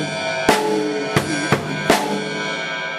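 A drum kit plays a short straight groove, the bass drum playing quavers straight rather than swung, four sharp hits landing in an even pattern, with a ringing tone sustaining underneath. No voices.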